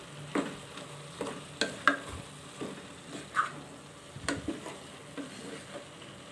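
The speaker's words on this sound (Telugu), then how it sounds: "కాసేపు మూత పెట్టుకొని మళ్ళీ వేయించుకుంటే బాగా మగ్గుతాయి ముక్కలు" Bottle gourd pieces fry in a pan, with soft intermittent stirring scrapes and light clinks over a faint sizzle, quiet and close, and no voices.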